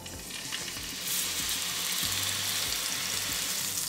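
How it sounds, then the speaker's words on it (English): Fillet steak searing in groundnut oil in a pan on high heat: a loud, continuous sizzle that swells as the meat goes in, with low knocks and scrapes of the pan, close up and with no talking. "I've got a pan on a high heat, and when you've got like a smoke point like I have, add a bit of groundnut oil. Steak in, away from you."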